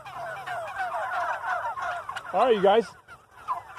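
A flock of turkeys calls nearby, with one loud, quavering gobble bursting out near the middle over softer overlapping clucks, and a voice briefly speaks.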